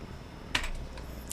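A few quick keystrokes on a computer keyboard as a short terminal command is typed, clustered near the middle with one more tap at the end, soft and close, with no talking.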